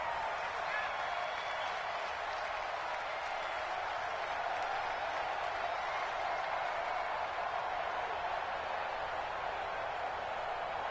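Steady roar of a football stadium crowd building ahead of a big third down, a dense wash of cheering and scattered clapping that holds loud and continuous throughout.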